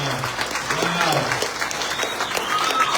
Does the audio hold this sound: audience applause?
yes